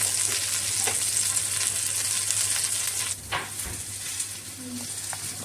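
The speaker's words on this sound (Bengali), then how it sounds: "আমি আস্তে ধরে এগুলিকে নেড়ে ধরে ভেজে নিচ্ছি" Stuffed ridge gourd fritters, with dried red chilies, fry in oil and are gently turned, giving a steady near sizzle with a few soft stirring knocks and scrapes.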